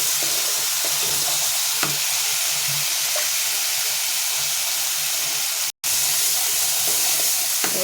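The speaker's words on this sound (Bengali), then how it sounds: "আর একটু নাড়িয়ে নিয়ে" Curry stirred in a pan, a continuous steamy sizzle and hiss with occasional faint scrapes of the spoon, close and steady throughout, with one short dropout near the end.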